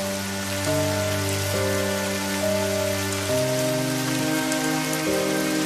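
Cartoon rain pours in a steady, even patter of drops on surfaces, heard alongside sustained background music chords that shift every second or so.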